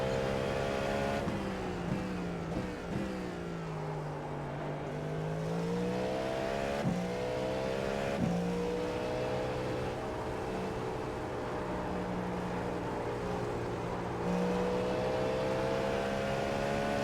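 A Cadillac V-Series.R race car engine in iRacing at Road America drones steadily with rising and falling pitch as it accelerates and downshifts, brief gear-change blips breaking the continuous loud tone.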